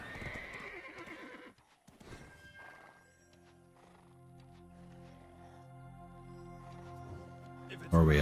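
Horses neigh and hooves clop in Black Desert Online, a whinny and hoofbeats up front over a steady in-game ambient bed, with a loud burst at the very end.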